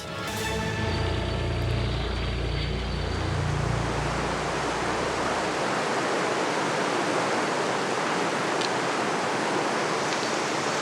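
The flooded Nartuby river in France rushes in a dense, steady roar of churning water, loud and continuous with no voices.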